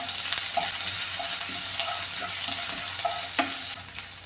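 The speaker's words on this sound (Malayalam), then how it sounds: "ഇനി ഇതിലേക്ക് കൃഷി ചെയ്തേക്കുന്ന ഇഞ്ചിയും വെളുത്തുള്ളി അതും കൂടി ഇട്ട് കൊടുക്കാം" Ginger, garlic and mustard seeds sizzle steadily in hot oil, a continuous bright crackle with a few soft spoon scrapes and taps against the pan.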